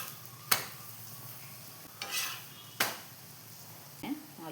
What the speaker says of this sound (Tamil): இப்போ 2 பக்கமும் எண்ணெய் ஊற்றிக்கலாம்.